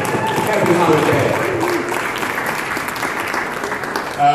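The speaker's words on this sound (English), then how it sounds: "I think we just need to give yourself a round of applause just for happy holiday." Crowd at a holiday gathering at City U gives a sustained round of applause, dense steady clapping filling the room from start to finish with faint voices mixed underneath.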